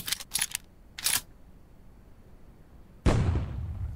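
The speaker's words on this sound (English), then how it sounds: "let's throw a grenade" A grenade explodes in an indie first-person shooter game. A few soft clicks come first, then a short quiet pause before one sudden loud blast that rumbles and decays.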